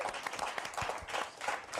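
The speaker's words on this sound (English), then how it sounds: "Give yourself a round of applause." A short burst of audience clapping at a live debate league event, brisk and uneven, lasting just under two seconds.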